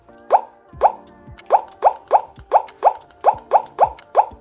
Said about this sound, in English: the keypad sound, while cute for the first few hours of use, quickly becomes a nightmare